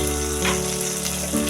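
Onion and garlic fried until reddish in a pan sizzle steadily as a tomato and ginger paste goes in, giving a close, continuous crackling fry with brief bursts as the wet paste hits the hot oil.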